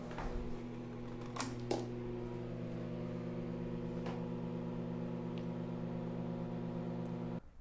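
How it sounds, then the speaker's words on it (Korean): A microwave oven powered by an Indians 2000W power bank hums steadily and evenly at low volume, with a few faint clicks and taps early on before it cuts off at the end. "전자레인지는 정상적으로 작동되는 모습을 볼 수가 있었습니다"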